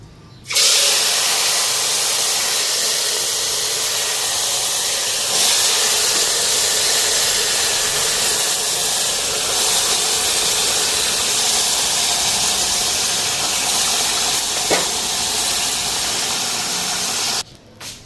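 A pressure cooker on a home stove hisses with steady, loud steam for a long stretch, a constant broadband rush with only slight wavering and no voices.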